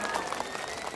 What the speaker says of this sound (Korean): 김희진 씨에게 큰 박수 부탁드립니다.